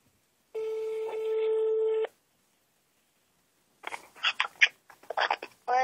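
Telephone call tone on a phone line while ringing someone: one long steady electronic tone of about a second and a half, then a pause, followed by bursts of faint voice or line sound.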